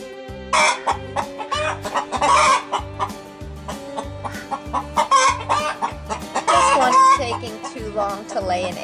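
Chickens cluck busily and a rooster crows on an island farm, the loud clucking rising in repeated bursts over a steady rhythmic low thumping in the background.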